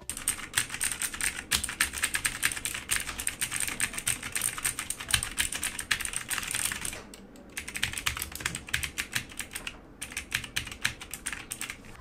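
Fast, continuous typing on a GamePower Warlock Compact mechanical gaming keyboard, dense crisp key clicks in a rapid rhythm with two brief pauses, close and clear, no talking.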